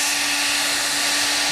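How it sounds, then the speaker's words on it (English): A hairdryer runs steadily outdoors while curing a carbon fiber motorcycle windshield, a loud, even whooshing hum with a constant tone and no pauses. "Running a hairdryer on it will just get the material to set up a little nicer."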